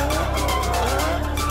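A drift car at a gymkhana event in Kuwait, heard as a loud, continuous engine roar with a squealing, skidding tire tone held steadily throughout at close range.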